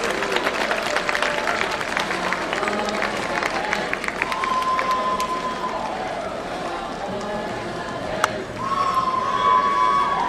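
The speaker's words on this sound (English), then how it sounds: "let's give the Chang Cultural Troupe a big round of applause" A festival crowd claps for a cultural troupe's performance at the Hornbill Festival, steady broad applause with scattered cheers and voices, continuing at moderate loudness across the whole stretch.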